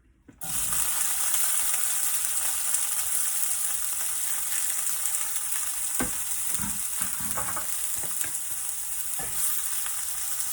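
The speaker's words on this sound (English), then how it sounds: "So now I have a skillet with a little bit of olive oil that I've heated up, and I'm going to add the jackfruit." Jackfruit goes into a skillet of heated olive oil and sizzles loudly and continuously, with occasional scraping and stirring knocks breaking through the hiss.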